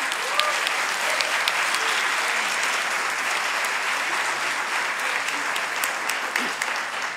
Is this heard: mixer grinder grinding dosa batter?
no